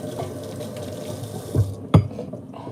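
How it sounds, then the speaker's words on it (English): Tap water runs into a kitchen sink as potatoes are rinsed, a steady low wash with a couple of brief louder splashes or knocks near the end. "I dropped one because I am going to rinse them off."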